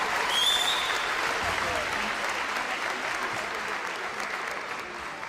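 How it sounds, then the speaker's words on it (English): An outdoor crowd at a cancer fundraiser walk applauds after a performance, a broad, steady roar of many hands clapping with a few cheers and whistles, heard from a moderate distance and tapering slightly toward the end. "Can we please have another round of applause for that wonderful performance?"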